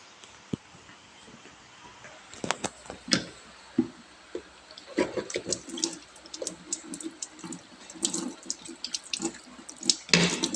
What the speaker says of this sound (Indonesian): Kemudian mencuci tangan 6 langkah.